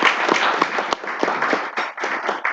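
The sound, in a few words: audience applause at breakfast event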